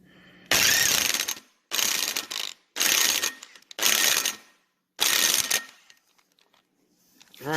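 A ratchet tool tightens engine parts during a bottom-end rebuild of a 1971 Triumph Tiger 650cc motorcycle, sounding as five close, loud bursts of rapid clicking separated by short pauses, with no talking.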